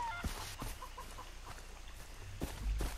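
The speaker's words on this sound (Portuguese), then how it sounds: "Galinha direita." Chickens clucking in Far Cry 3, a few short clucks and flutters over a low outdoor game ambience, moderately close.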